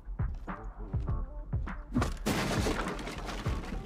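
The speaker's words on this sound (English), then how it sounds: "Is that dude shooting you?" Video game gunfire from a battle royale shooter: a string of separate sharp shots in uneven rhythm, then a dense burst of rapid fire that washes into a noisy rattle, fairly near and moderately loud.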